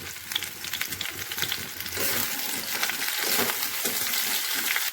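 Fried potato and green plantain pieces being stirred and tossed with spices in a sizzling pan, a steady loud frying hiss with scraping stir strokes throughout, no talking.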